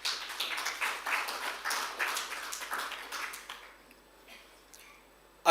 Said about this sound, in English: I think he deserves an applaud